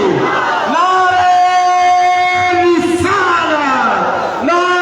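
At a Milad religious gathering, a voice calls out a slogan and a crowd shouts back in loud, drawn-out chant-like replies, repeated several times.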